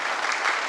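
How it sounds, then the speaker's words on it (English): A tech conference audience gives a short burst of applause, a dense even patter of many hands filling the room with no talk. "Let's clap."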